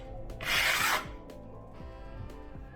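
A drywall knife rasps across joint compound as it feathers the edges of a taped joint, giving one short scraping stroke followed by quieter scraping and tapping.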